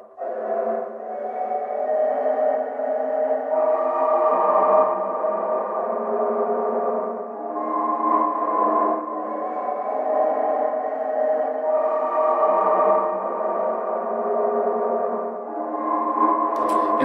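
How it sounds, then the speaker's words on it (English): An echo effect from the After Image plugin played alone off a Rhodes electric piano: sustained, smeared tonal washes with layered repeating notes, loud and continuous throughout, swelling and shifting without any voice. "So this is the effect that's playing along with the Rhodes via After Image."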